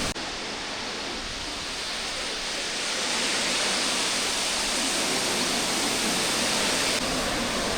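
Powerful waterfall roaring close by, a dense, unbroken wash of rushing water that fills the whole clip and swells slightly louder partway through.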